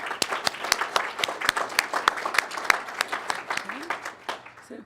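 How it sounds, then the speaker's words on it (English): An audience at a county budget address claps in a sustained round of applause, many sharp individual claps clearly spaced, close and moderately loud, with a brief voice near the end. "Let's give them a round of applause."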